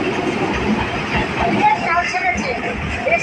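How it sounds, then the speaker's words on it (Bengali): Inside a moving local train after boarding at Majerhat station, a steady rumble of carriage noise with rattles and clanks, and people talking nearby over the ride. "চলে এলাম মাঝেরহাট স্টেশন, ট্রেনে উঠে পড়েছি দুজনে।"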